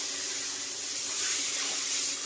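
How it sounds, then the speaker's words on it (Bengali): Water pours steadily into cooking spice masala in a pan, a continuous close hiss and splash that holds at an even level for about two seconds with no voices. "আর একটু জল দিয়ে দেবো, জলটা কম হয়ে গেছে দেওয়া।"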